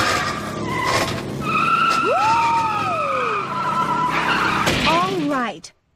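Cartoon go-kart skidding with loud squealing tires and a revving engine, the screech rising and bending in pitch before cutting off abruptly at the end.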